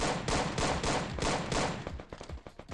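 Gunfire during a team shooting match, dense overlapping volleys of rapid shots at first, thinning into scattered separate cracks toward the end.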